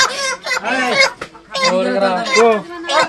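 Chickens clucking and calling close by, with a few strong, tonal squawks in bursts separated by short pauses, loud and clear against a quiet background.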